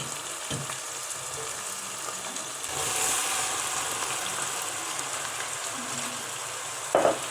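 Broad beans sauté over high heat in a pot of tomato-paste sauce, giving a steady, close sizzle that swells slightly partway through, with a brief utensil clatter near the end.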